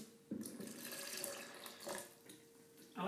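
Water pours steadily from a tap into a vessel of matcha fig banana smoothie, a continuous close splashing stream that stops and restarts.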